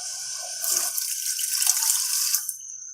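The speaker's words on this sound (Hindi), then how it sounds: "अब इसमें हम डालेंगे दूध 1 कप।" A cup of milk is poured into brewing weight-loss tea, giving a steady close liquid splash and trickle that runs for about two seconds and then stops, with no voices.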